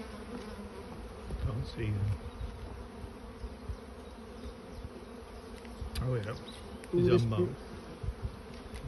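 A steady, close buzz of many honeybees around apiary hives as a swarm is shaken in, with brief voices talking over it now and then.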